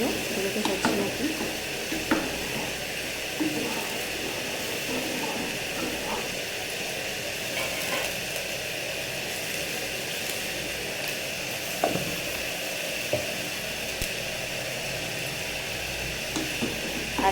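Beetroot and potato fry with turmeric gets stirred in a pan, a steady sizzle under repeated scraping stirs, close and moderately loud throughout.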